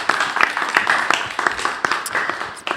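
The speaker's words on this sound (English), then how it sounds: "All right, give them a round of applause as they come on stage." An audience at a Palmyra high school event applauds as students come on stage, a dense, continuous burst of clapping heard close and fairly loud throughout.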